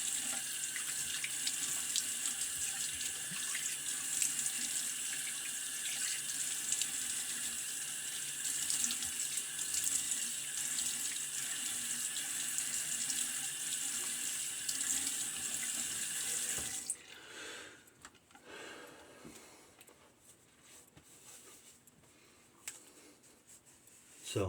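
A running water tap rinses a stainless steel safety razor, a steady broadband rush that carries on alone and then cuts off, leaving quieter clinks and faint handling noises.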